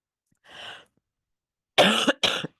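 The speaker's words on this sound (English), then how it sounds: "I've got this bad cough" Three coughs from one person, close and fairly loud: a softer single cough, a pause, then two harsh coughs in quick succession.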